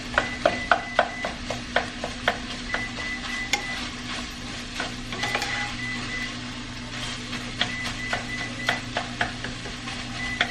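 Pork sizzles in melted butter in a pan while a utensil stirs it, giving a soft steady fry beneath irregular sharp clicks and scrapes against the pan.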